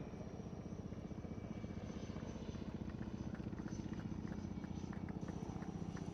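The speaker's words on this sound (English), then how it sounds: "please welcome the latest addition to the stables at INS Shikra, the indigenous advanced light helicopter Mark III" An indigenous Advanced Light Helicopter Mark III flying past at a naval Beating Retreat and Tattoo ceremony, its rotor making a steady, faint throb at a distance.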